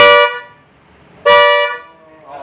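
Mitsuba Air Bullet electric car horn sounded twice in close succession, each a loud, shrill, high-pitched blast lasting about half a second, with a faint voice briefly at the end.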